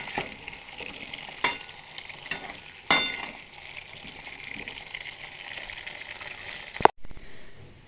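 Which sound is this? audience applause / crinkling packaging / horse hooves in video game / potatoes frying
potatoes frying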